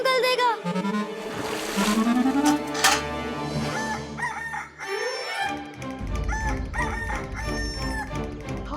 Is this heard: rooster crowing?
yes